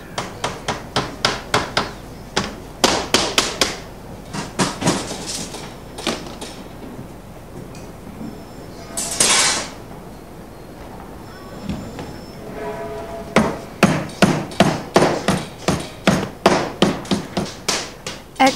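Hammer striking lead roofing sheet, sharp close taps in quick runs, with a scraping sliding pass in the middle and a fast rhythmic series of blows toward the end.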